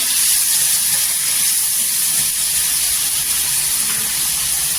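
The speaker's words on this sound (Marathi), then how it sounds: "जो वाटण आपण वाटलेला तो टाकायचा. छान असं तेलावर परतायचं" A steady, loud hiss of ground spice paste sizzling in hot oil fills the clip without pause, with no talking over it.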